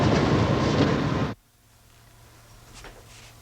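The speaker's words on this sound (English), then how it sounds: "so you go on the train" A train running on rails in London, a loud, dense rumble with rhythmic clatter that cuts off abruptly partway through, leaving a quiet, low hum afterward.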